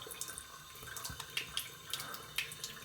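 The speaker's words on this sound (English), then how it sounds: "So give it a rinse." Running tap water splashes as a face is rinsed, a soft continuous flow broken by uneven splashes and drips, quiet and close with no talking.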